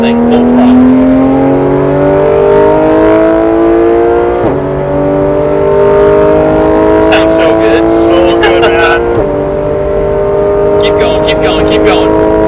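A supercar at full throttle on a race track in Las Vegas, its engine roaring loud and close with rising pitch through two quick upshifts, while someone speaks over the engine noise.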